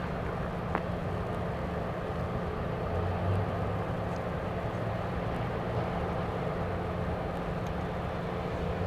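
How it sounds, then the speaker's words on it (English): A Southwest Boeing 737 MAX 8 jet departs on flight 1161, its engines a steady broad roar that holds at an even level throughout, with no talking. "here comes the next departure. Flight 1161 to Los Angeles, a MAX 8."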